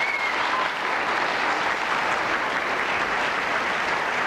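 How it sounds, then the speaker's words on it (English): Sustained audience applause for a musical performance at a 1984 Australian Olympic telethon, a dense, steady wash of many hands clapping throughout with no voices over it. "Another round of applause for that lovely piece."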